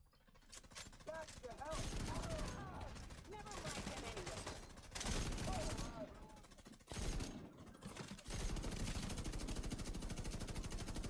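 Dense bursts of automatic gunfire in the shooter game The Division 2, loud and sustained with brief pauses, mixed with game effects and someone speaking over the shooting.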